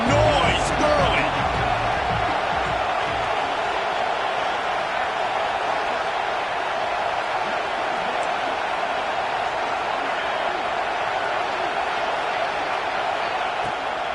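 Steady stadium crowd roar from an NCAA college football video game, a dense continuous wash of cheering that holds loud and even throughout, with a few sharper thumps near the start.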